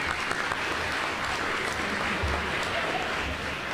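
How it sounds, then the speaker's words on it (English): Audience applause for a band at the LSSI True Friend Celebration 2022 masquerade gala, a dense, steady wash of many hands clapping throughout, with faint crowd murmur beneath. "let's give an applause for our fantastic music"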